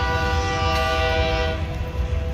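A loud, sustained steam whistle from Union Pacific Big Boy 4014, a huge steam locomotive, holding a steady multi-tone blast over deep rumbling rail noise, close and dominant throughout.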